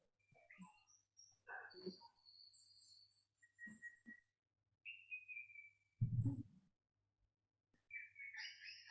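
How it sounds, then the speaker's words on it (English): Bird song with short whistled chirps and calls scattered across a quiet indoor meditation gathering, clear but moderately soft, with a brief low thump near the middle and no talking. "Wow, there's bird sounds"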